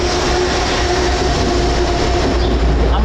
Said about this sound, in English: I'm about to drop a bomb, I'm gonna let this train pass.